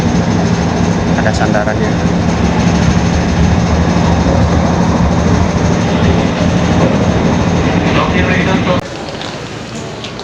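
Inside a moving KRL commuter train in Jakarta, a steady loud low rumble and rolling hum that drops off abruptly near the end, with a voice speaking briefly over it.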